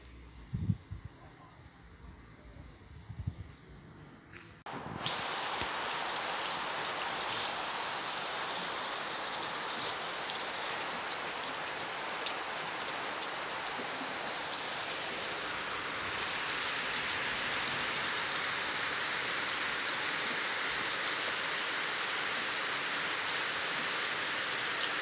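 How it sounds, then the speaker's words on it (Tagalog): Heavy rain that begins suddenly after a few seconds of quieter night ambience with insect chirps, then a dense, steady hiss of downpour that continues unbroken and loud. "yung pinakita ko po sa inyo yung ulan kung papaano po kalakas"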